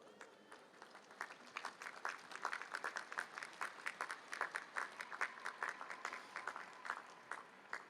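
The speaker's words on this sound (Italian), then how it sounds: "Adesso, come un gesto di fraternale cortesia, salutiamo loro con un applauso." Crowd at an outdoor papal audience with umbrellas in hand, clapping in a steady, fairly distant wave of applause that swells slightly and continues throughout.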